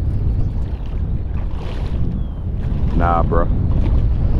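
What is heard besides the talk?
strong wind gusts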